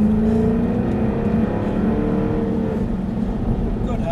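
A Jaguar car's engine holds a steady, fairly loud drone as it accelerates, heard from close by inside the vehicle, with a voice speaking over it.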